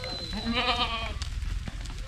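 Goats grazing out in open fields: one goat bleats once with a long, wavering cry, followed by rustling and soft outdoor noise.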